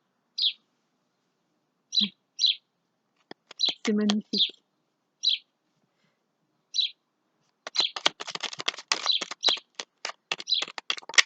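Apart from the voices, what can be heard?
bird singing just above the speaker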